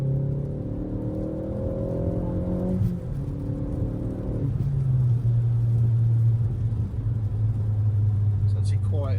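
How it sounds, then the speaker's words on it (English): Ford Focus ST Mk4 with a Revo stage 2 tune accelerating hard in third gear in normal mode, a steady in-cabin engine drone climbing in pitch, dropping briefly as it shifts, then rising again. "Quick third gear pull."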